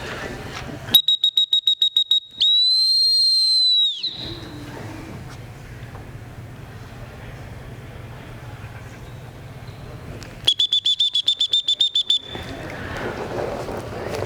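A trainer's small whistle calling a puppy sounds in two quick trills of rapid, shrill pips, one early and one later. A single longer steady tone comes just after the first trill, with quiet room sound between.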